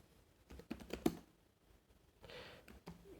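Fingers tap a computer keyboard in short clustered bursts of clicks, close and quiet, with a pause and then a softer stretch of keystrokes; no one speaks.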